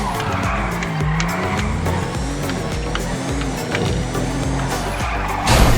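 Tires squeal steadily as a car drifts through a bend in the FiveM (GTA V) driving game, with engine roar underneath and a brief louder burst at the very end; no one talks.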